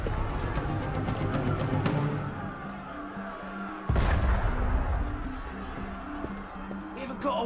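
Cannon fire from the video game Assassin's Creed Unity: heavy booming blasts, one at about two seconds and a louder, deep one near four seconds, with rumbling battle noise throughout and voices talking over it.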